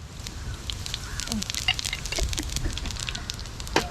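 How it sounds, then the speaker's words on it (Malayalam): Fennel seeds sizzling in hot oil for a prawn pickle, a faint crackling spatter with scattered pops over a soft background, close by, with no talking. "കുറച്ച് പെരിഞ്ചീരം ഇട്ട് കൊടുക്കാം ചൂടായ എണ്ണയിലേക്ക്"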